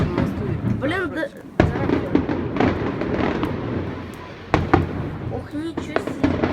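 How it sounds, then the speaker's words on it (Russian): Golden cascade fireworks in a salute display, with repeated loud booms and crackling bursts going off in quick succession over a constant roar, while people talk excitedly nearby. "Клевый салют. Эти грозди красивые."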